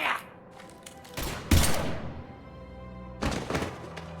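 Gunfire in the video game Mass Effect 3: a few heavy, booming shots and thuds spaced over several seconds, with echoing tails and a rumbling background between them.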